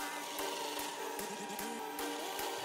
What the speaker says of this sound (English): I'm just going to spin them on the belt sander